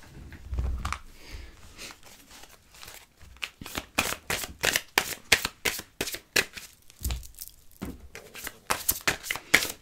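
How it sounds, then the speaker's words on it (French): Tarot cards are shuffled and drawn by hand for a love reading. Close, crisp riffling and flicking comes in quick bursts, starts sparse and quiet, then grows busier and louder, with no talking. "on va tirer une petite carte pour l'amour."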